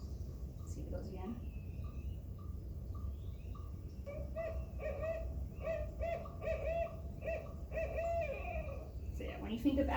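A recorded owl hoots in a series of repeated, evenly spaced calls, clear and fairly close against a steady background hum.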